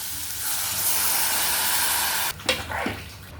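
Tamarind water is poured into a hot pan of frying chickpeas: a steady sizzling hiss cuts off abruptly, followed by a burst of splashing and bubbling liquid.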